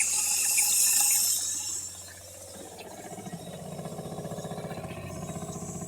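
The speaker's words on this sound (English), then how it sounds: "so now we'll go over here, let the water run" Water flows from a pop-up camper's tank through the onboard pump, opening with a hissing faucet spray that drops away into a steady, rhythmic pulsing hum of the pump running, close by, with no talk.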